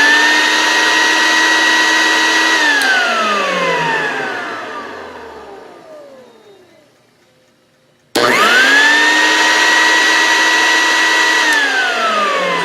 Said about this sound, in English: Pretty cool sound.